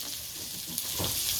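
Pork cubes stirred and frying in a pan, a steady close sizzle with a brief scrape of stirring partway through and busier crackling toward the end.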